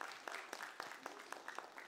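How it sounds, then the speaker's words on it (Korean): Audience applause at a history museum talk concert as guests are welcomed onto the stage, steady, fairly faint clapping from a crowd with sharper individual claps standing out. "여러분 큰 박수로 맞이해 주십시오"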